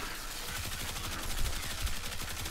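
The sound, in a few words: Amprex beam rifle firing in video game Warframe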